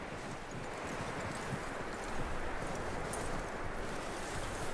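Horse hooves clip-clop steadily on the ground in Red Dead Redemption 2, a continuous soft rhythm under wind and outdoor ambience.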